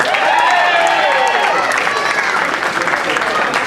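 Steady, full applause from a large audience at a bushfire appeal Aussie Rules football show, loud and continuous, with a voice speaking faintly through it.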